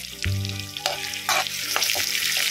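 Chopped onion dropped into a pan of frying tomato gojju sets off a loud sizzle, with stirring clatter and crackling oil continuing close by.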